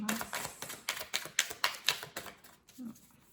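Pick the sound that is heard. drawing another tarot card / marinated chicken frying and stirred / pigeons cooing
drawing another tarot card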